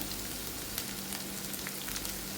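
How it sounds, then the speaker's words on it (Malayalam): Garlic, crushed chili and small shallots sizzle in hot oil for a yam stir-fry, a soft, steady crackling hiss that is fairly faint and close, with no voices. "വെളുത്തുള്ളി ചെറുതായിട്ടൊന്ന് മൂത്ത് വരുന്നുണ്ടേ നമ്മൾ ചതച്ച് വെച്ച മുളകും അതുപോലെ തന്നെ ചെറിയ ഉള്ളിയോടെ അങ്ങോട്ട് ഇട്ട് കൊടുക്കുകയാണ്."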